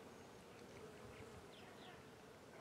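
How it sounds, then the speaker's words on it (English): Faint, steady insect buzzing from bees drifting around a pear tree in a quiet outdoor setting, with soft hums rising and falling over the background. "The bees are out."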